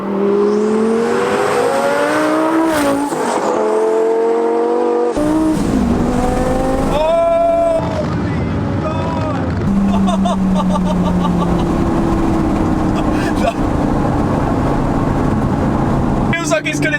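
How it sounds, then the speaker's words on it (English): A twin-turbo Lamborghini engine downshifts and revs, loud and close, with rising and falling engine tones, sharp blips and crackling pops. A voice talks over parts of it. "When you downshift, I don't know whether there's flames coming out of the back, I don't know, but it's making some silly noises."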